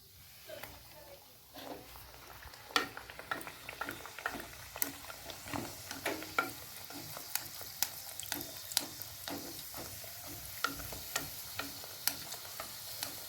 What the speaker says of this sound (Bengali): এ দেখো আমি লুচিটা ভেজে দেখাচ্ছি